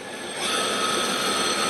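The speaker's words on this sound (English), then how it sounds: "It's a live tool on the turret at 1500 RPM." A live tool on the turret of a 2007 Citizen M32V CNC Swiss lathe spins at 3000 RPM, a steady, close mechanical whir with a faint high tone that rises in loudness and then holds.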